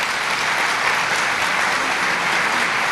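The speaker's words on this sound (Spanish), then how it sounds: "Un aplauso para este valiente." A church congregation applauds a volunteer with steady, dense clapping that holds at an even level throughout, with no talk over it.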